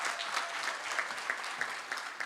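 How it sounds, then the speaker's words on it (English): Steady, dense applause from an audience at a gala dinner, with claps running through the room for the whole stretch at an even level and no pauses. "Round of applause for Segawa."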